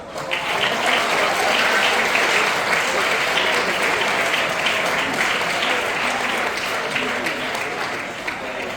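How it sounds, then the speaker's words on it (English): A dinner audience at a commencement event applauds for Malta: dense, continuous clapping from many hands, loud and close, holding steady for several seconds before easing off slightly toward the end. "Let us applaud for Malta."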